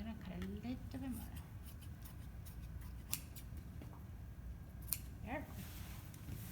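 Scissors snip through fabric while draping a front basic bodice, giving a few scattered, close cuts over a steady low background, with a voice talking at the start.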